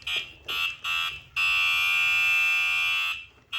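A NanRobot LS7 electric scooter's electronic horn sounds three short beeps and then one long, steady honk, all fairly quiet and close by.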